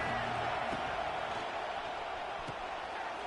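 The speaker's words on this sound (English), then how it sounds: "This crowd ready to make its presence known." A football stadium crowd at a college game, a steady broad roar of many voices, moderately distant and sustained, with a commentator talking over it.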